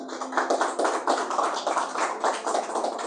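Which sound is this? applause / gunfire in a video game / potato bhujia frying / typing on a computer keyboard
applause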